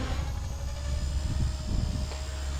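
A Fusion 180 RC helicopter flying inverted in stunt mode gives off a steady, continuous rotor and motor drone with a high whine. The drone holds at moderate loudness and distance for the whole span, with no voices.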